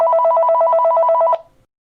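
A telephone rings in a steady, rapid electronic trill for just over a second, loud and close, then cuts off abruptly into silence.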